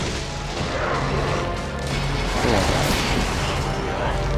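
Dense, continuous gunfire and explosive booms from the game God of War fill the clip, a steady loud barrage of shots and crashes with no clear pauses.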